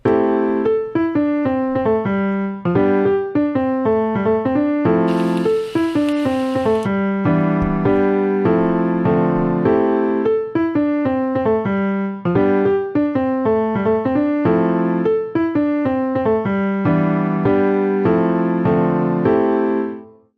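A funky synth pattern plays in short, rhythmic stabbed notes with a brief noisy accent partway through, then moves into a closing section of chords before fading at the end; no voices.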